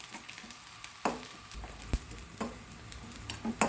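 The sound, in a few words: frying chopped green chilies with onion in a pan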